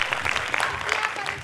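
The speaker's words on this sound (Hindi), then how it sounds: "थैंक यू सो मच कि आप लोगों की तरफ से बहुत ज़ोर से तालियां." Short burst of audience applause at a dance academy's annual function, dense clapping mixed with voices and some talk through the brief span.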